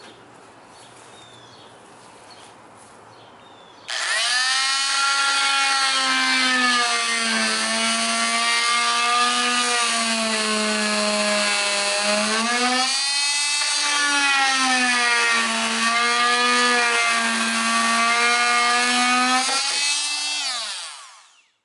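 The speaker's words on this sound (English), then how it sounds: "So we're just going to cut two notches right there and slide the wiring out." A power tool whines while cutting two notches in the plywood wall of a cargo trailer camper conversion. It starts abruptly, runs as a loud, steady, close whine with slight pitch dips under load for about sixteen seconds, then stops.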